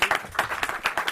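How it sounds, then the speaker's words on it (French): Brief scattered clapping from a small audience at an arts faculty gathering, a few distinct hand claps in uneven rhythm, close and fairly soft. "Eh ben, on peut applaudir, hein, les seigneurs."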